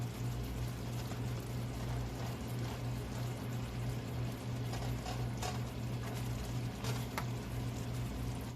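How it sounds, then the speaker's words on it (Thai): Soup pours from a pot into a dish while making panang curry with soft pork bones, a steady continuous liquid stream over a low constant hum, with no talk. "แล้วกบก็จะเทน้ำซุปที่อยู่ในหม้อเนี่ยค่ะ ลงไปเลยนะคะ"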